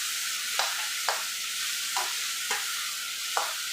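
Tomatoes and cashews sauté in a pan with a steady broadband sizzle, punctuated by five regular scraping stirs of a spoon against the pan, close and moderately loud with no talking.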